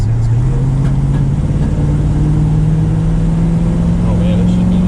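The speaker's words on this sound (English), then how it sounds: "this is the first time we've driven this truck" Restored 1972 Chevrolet C10 pickup being driven, its engine a steady, loud, close drone with a gently rising pitch under faint road and wind noise throughout.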